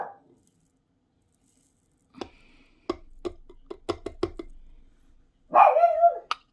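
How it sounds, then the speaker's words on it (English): A pet dog barks indoors at home: a short bark at the start, then quiet taps and clicks, and finally one loud, close bark near the end, with no talking. "Willow, can you stop barking? I'm trying to film"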